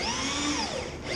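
A power drill whirs steadily with a second drill bit while a snow plow is installed, a short, close, continuous high-pitched whine.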